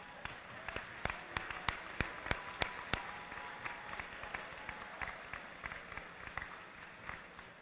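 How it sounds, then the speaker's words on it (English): A high school graduation crowd gives a standing ovation for the parents, heard as a scattered run of loud individual claps that thins into steadier applause, with some faint voices mixed in. "why don't you all rise to your feet and applaud for your parents?"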